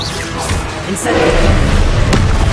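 Fire spell cast in Hogwarts Legacy, a loud whooshing burst with thuds and crashes filling the short clip, no talk.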